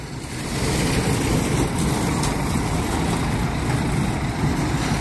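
A Danube Azul coach, car 10001, pulls out of the Barra Funda bus station in São Paulo, its engine a steady, fairly loud low rumble amid station ambience, with no talk.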